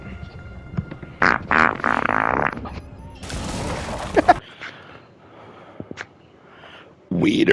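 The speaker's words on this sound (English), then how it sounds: "Ooh, I got a fart." Fart sound in a video game: a raspy, noisy blast lasting about a second, among other loud game noises and sputters, with voices around it.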